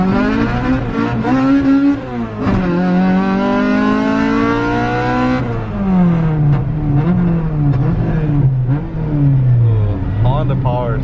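A Honda Civic EK Type R with a swapped LS VTEC engine revs hard and loud nearby, pitch climbing and falling through several sustained pulls with a clear rise and drop in engine note.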